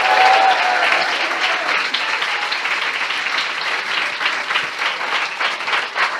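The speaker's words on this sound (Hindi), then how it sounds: "क्या हम ऐसे प्रभु के लिए एक जोरदार ताली बजा सकते हैं?" A church congregation breaks into loud, sustained applause and cheering for the Lord, dense clapping that stays steady throughout with a faint tone near the start.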